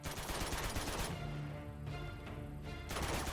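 Gunfire in the video game Uncharted 2 Remastered, a dense, loud burst of repeated shots and crashes with a lull in the middle before the firing picks up again.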